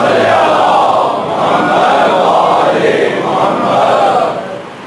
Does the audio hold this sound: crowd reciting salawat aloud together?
yes